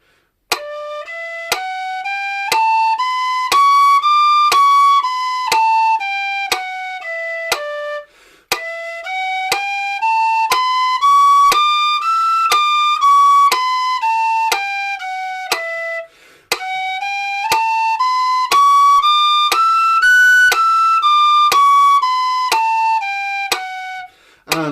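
Tin whistle playing three smooth legato phrases of notes that step up the scale and back down, each note softly tongued in an even rhythm, clear and close with short pauses between phrases.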